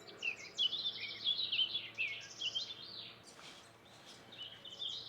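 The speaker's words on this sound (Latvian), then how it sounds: "Alpos, putniņi čivina." Birds chirp and twitter in the Alps, a run of quick high bright notes from a small bird with scattered calls around it, faint against a quiet outdoor background.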